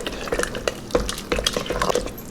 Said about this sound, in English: I'm just going to give that a good stir